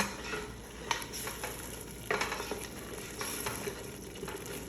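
Baharat, salt and cinnamon are stirred into a pot, giving soft, fairly quiet scraping strokes at irregular intervals over a low, steady background hiss, with no voices.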